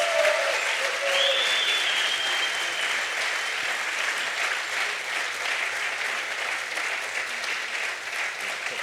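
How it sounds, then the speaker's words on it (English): Audience applause for reggae DJ David Rodigan at his 40th anniversary event, a steady, dense crowd clapping that holds at an even level for the whole stretch, with some cheering faintly mixed in. "another round of applause"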